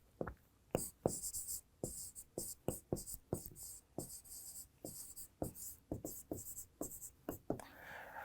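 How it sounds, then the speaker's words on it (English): Marker or chalk writing on a board during a news-analysis lecture, a rapid series of scratchy strokes and taps, close and distinct. "now I'll write the 5th one"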